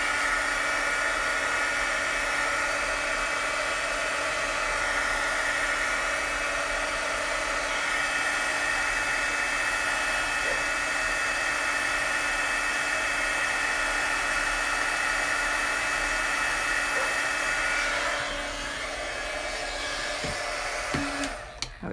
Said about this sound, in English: I'm going to hit this with heat a little bit so I can draw some details on top of it